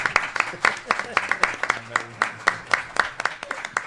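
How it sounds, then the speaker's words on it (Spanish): Sparse audience applause at an academic conference on higher-education evaluation and accreditation, with individual claps ringing out in an uneven, thinning rhythm and a murmur of voices underneath. "Yo creo que tenemos que aplaudir ahora por eso"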